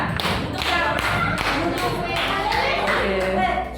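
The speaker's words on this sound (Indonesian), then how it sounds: "Tepuk tangan semuanya." Group clapping by a small audience after a classroom group presentation, a loud, steady patter of many hands with thumping taps, continuing for several seconds.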